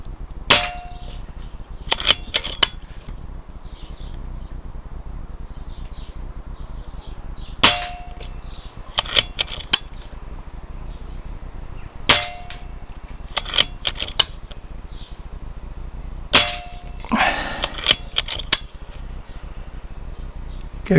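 Rifle shots crack at steel tank-shaped targets, often in quick pairs or triplets spaced several seconds apart, each followed by a sharp metallic ring from the hit plate.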